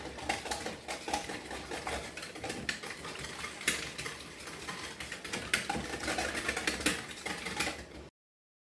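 Eggs being whisked into a yeast mixture for pumpkin doughnut dough, a busy run of quick, close, rhythmic clicking and scraping strokes that carries on without pause before stopping abruptly.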